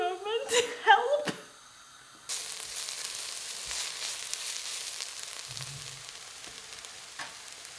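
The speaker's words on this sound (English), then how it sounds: "Onions have finished caramelizing" Onions caramelize in a frying pan with a steady crackling sizzle. It starts after a few seconds of brief vocal murmurs and soft clatter, then continues alone and eases slightly toward the end.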